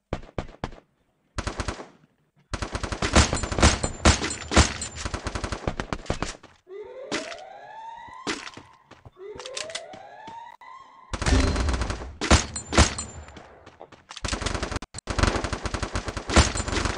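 Rapid automatic gunfire from an MP40 submachine gun in the video game Free Fire: loud bursts of close shots come in several clusters, broken by short gaps and a pair of rising whooshing tones.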